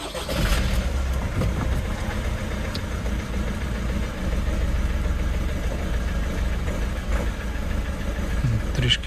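Opel Zafira engine idling after its first start following a long repair, a steady mid-pitched running drone with slight unevenness, close and continuous, with a faint voice now and then.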